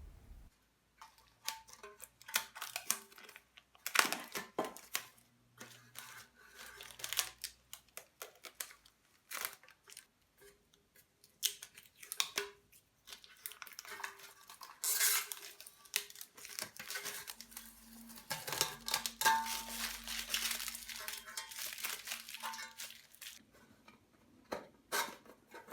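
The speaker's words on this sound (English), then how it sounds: "it's time to remove the protective foil." Protective foil being peeled off a drilled amplifier chassis, with scattered crinkly tearing and crackling bursts coming and going over about twenty-five seconds, close but quiet, with faint low hums in between.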